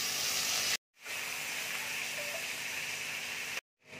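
Ginger-garlic paste hits hot oil and melted butter with a loud, steady hiss and sizzle, broken by two brief silent cuts and then resuming at the same close, even level.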